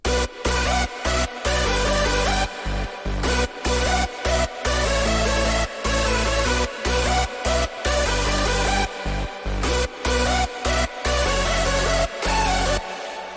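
A loud, dense hardstyle track with a bright square-wave synth lead of four layers over pounding beats, broken by short rhythmic drops to near silence.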